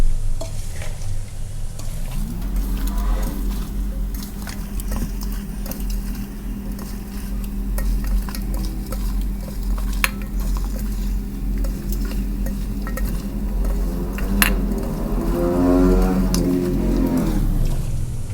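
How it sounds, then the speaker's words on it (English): Steady scraping and sizzling as Hyderabadi dum biryani ingredients are stirred with masala in a pot, a continuous loud churning texture with low rumble throughout, no voices. "Mix it well, all the ingredients together."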